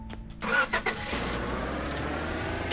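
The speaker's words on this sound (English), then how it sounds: "I can hear a car. It's off-putting." A car engine turns over and catches, then settles into a steady low rumble that runs to the end.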